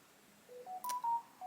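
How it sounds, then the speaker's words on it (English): A phone gives a short electronic notification of a few rising and falling tones, clean and near, over a quiet background with no talk. "My phone just dinged"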